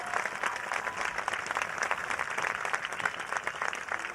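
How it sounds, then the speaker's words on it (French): A crowd applauds the riders on the show-jumping podium at Chantilly Jumping 2011, steady sustained clapping throughout, full and fairly close, with no voice over it. "encore un tonnerre d'applaudissements pour ces 3 cavaliers exceptionnels"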